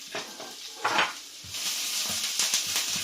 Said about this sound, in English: I'm going to bung in the onions. Get a bit of colour on them.